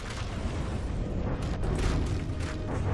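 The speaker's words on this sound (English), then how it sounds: "that was a bouncing bomb" Deep, rumbling explosions from a bouncing bomb in the vehicle-combat game From the Depths. Booms roll continuously over a heavy low roar for several seconds, with a few sharper bursts rising out of the din.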